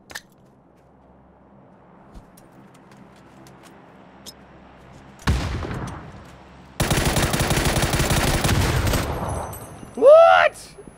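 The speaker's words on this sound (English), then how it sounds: "Someone else is shooting at him." PUBG gunfire: after a quiet stretch a sharp burst of shots erupts, then a sustained loud volley of rapid automatic fire for a couple of seconds, followed by another short loud burst near the end.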